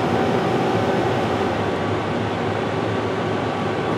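A robotic welder runs a weld with a steady, dense, broadband roar and hiss, even and continuous throughout with no talking.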